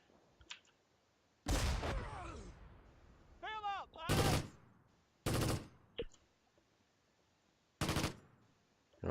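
Gunfire from a World War II strategy video game battle around Caen, with Cromwell tanks in play, comes as four loud, sharp bursts separated by quieter gaps with scattered minor game noises.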